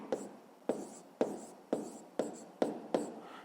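A pen writes by hand on paper in short, crisp strokes, about seven evenly spaced scratches in a steady rhythm, close and quiet, with no voice.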